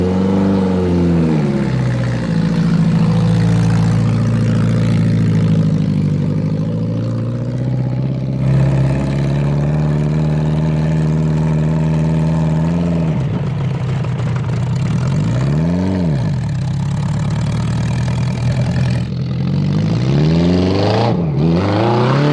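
A 1000cc, 100HP mini trophy truck go-kart engine revs loudly and close, holding a steady drone, then climbing and dropping in several sharp throttle blips during the ride.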